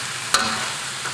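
Eel and onion wedges stir-frying in a wok, a short burst of loud, close sizzling hiss with one sharp clank of the pan or utensil, then a steady frying rush.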